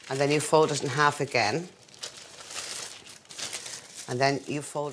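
Parchment paper crinkles and rustles close up for a couple of seconds as it is folded, with a voice talking before and after.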